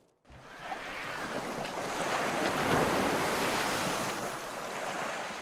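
Ocean waves surge continuously onto a beach where Gulf grunion spawn, a broad roar that builds, peaks midway and stays loud, with wind noise on the microphone.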